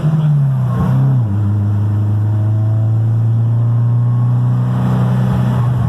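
A loud, close BMW 2002 Alpina engine drones steadily, its pitch dipping briefly after a throttle blip before holding a strong, sustained rumble.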